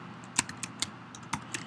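Keys clatter on a computer keyboard as code is typed, a handful of sharp, irregular clicks close by against a quiet room with no speech.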